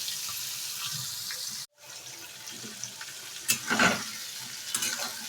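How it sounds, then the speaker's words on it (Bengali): Chickpeas stirred in hot oil in a home kitchen pan, a steady close sizzle with scraping stirs, a brief break in the middle and a louder burst of frying and scraping toward the end, no talking. "ছোলাগুলো দিয়ে একটু নাড়াচাড়া করে নিলাম।"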